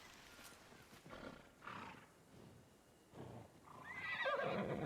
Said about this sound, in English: Oh, look, horses, chat. Horses.